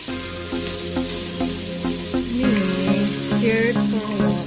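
Garlic and ginger paste fries in a pan and is stirred steadily, giving a constant close sizzle with regular scraping strokes and light clinks, and no talking.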